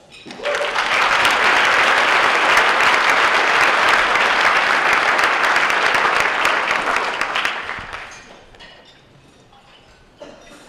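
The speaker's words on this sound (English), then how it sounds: "Please join me in recognizing their efforts with a round of applause." A large award-ceremony audience bursts into dense, loud applause that holds steady for several seconds, then gradually thins out and fades to scattered claps and quiet near the end.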